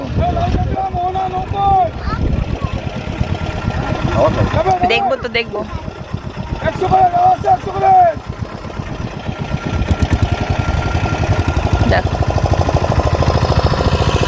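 A motor boat crossing shallow water near Talsari and New Digha chugs with a steady low engine rumble throughout, while a voice talks excitedly over it almost the whole time.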